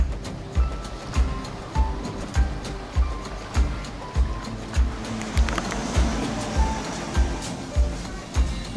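Choppy, lumpy water slaps rhythmically against a moored, rafted-up boat at a river pontoon, with wind against tide, in regular thuds about every half second under a constant background wash.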